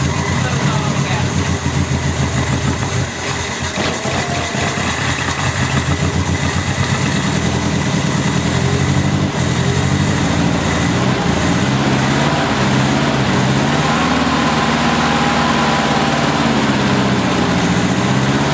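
Opel GT engine, first start in 30 years, idles roughly and steadily up close for the whole stretch while people talk over it.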